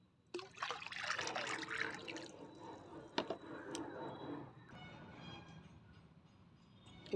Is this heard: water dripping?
yes